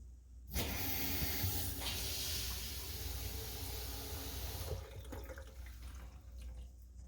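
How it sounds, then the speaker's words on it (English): Steady rush of water from a newly installed kitchen faucet, starting abruptly after a brief silence and flowing loud and continuous into the sink before easing slightly toward the end. "water's turned on and nothing's leaking"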